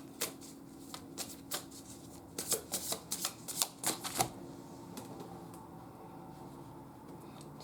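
Tarot cards are shuffled in quick bursts of crisp riffling and tapping, close and fairly quiet, with short pauses between rounds.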